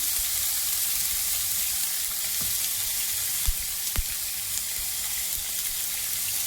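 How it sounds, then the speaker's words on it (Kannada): Half a kilo of chicken liver frying in hot oil on a tawa gives a dense, steady sizzle and crackle, close and loud, with a few small pops and no talk. "ಎಣ್ಣೆ ಕಾದಿದೆ. ಈಗ ನಾನು ಅರ್ಧ ಕೆಜಿಯಷ್ಟು ಲಿವರ್ ಹಾಕ್ತಾ ಇದ್ದೇನೆ."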